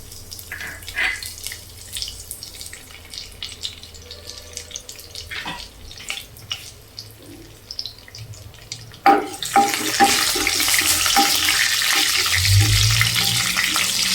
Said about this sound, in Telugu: ఆవాలు మెంతులు జీలకర్ర ఎండుమిరపకాయ అండి వాటిని వేసేసుకొని ఫ్రై చేసుకోవాలి